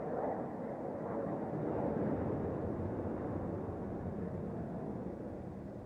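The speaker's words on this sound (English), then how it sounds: "There's the jet. Should hear it again soon." A jet flying over the Milwaukee Air & Water Show lakefront produces a steady, distant rumbling roar that lingers broadly and slowly eases off, with no voices over it.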